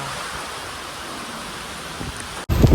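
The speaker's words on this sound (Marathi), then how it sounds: "पाऊस आला" Rain falling, a steady even hiss for over two seconds, then broken off by a loud abrupt thumping burst at the end.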